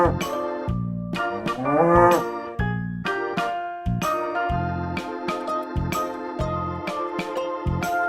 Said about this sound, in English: Cow, C-O-W, cow.